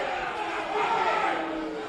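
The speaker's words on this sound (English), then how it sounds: "The crowd certainly making their displeasure felt around here at Lakeside Stadium" A football stadium crowd at Lakeside Stadium jeers in displeasure during an NPL Victoria match between South Melbourne and Kingston City, a steady massed roar of voices filling the whole moment.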